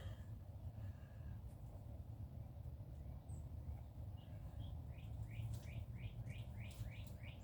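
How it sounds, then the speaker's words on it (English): Faint bird chirps repeat in quick short bursts in the background over a steady low rumble, growing more frequent toward the end. "You can really hear the birds going."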